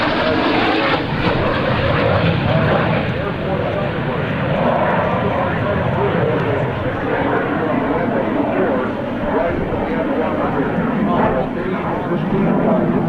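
Loud, continuous roar of F-86 jet aircraft performing at a naval air station airshow, steady and broadband throughout, with a voice talking over it.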